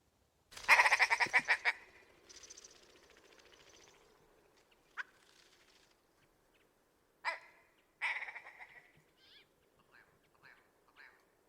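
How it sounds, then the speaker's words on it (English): A red grouse's harsh, rapid stuttering alarm call rings out close by, followed by scattered shorter calls with quiet pauses in between, in upland river country. "Now that was the alarm call of the red grouse."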